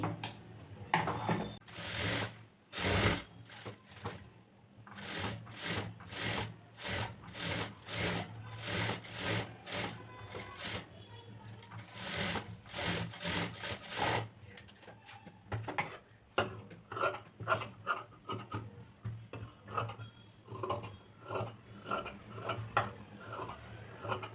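A sewing machine stitches a blouse sleeve in quick, rapid bursts that start and stop repeatedly, close and fairly quiet, with pauses between runs.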